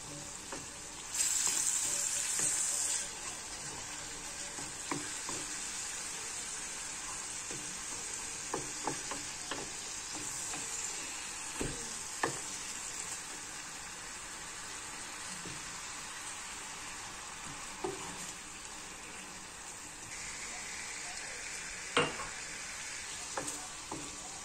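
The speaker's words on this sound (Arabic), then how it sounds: "غادي نخلط هاد المكونات مزيان" Spices and boiling water being stirred in a chicken tagine pot with onions and raisins, a steady sizzling simmer with a spoon scraping and clinking now and then, a louder hiss near the start, no voices.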